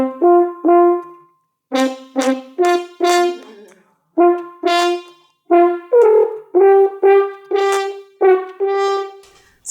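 A French horn plays a series of short, buzzy, hand-stopped notes, separated by brief pauses, each with a nasal, pinched tone, heard close and clear.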